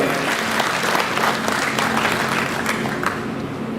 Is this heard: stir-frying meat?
no